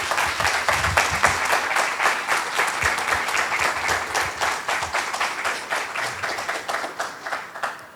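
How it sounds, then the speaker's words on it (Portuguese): A large audience at an evening academic honorary doctorate event claps steadily and fills the hall with dense, sustained applause that runs evenly throughout and fades slightly at the end, with no speech over it. "Uma salva de palmas, por favor."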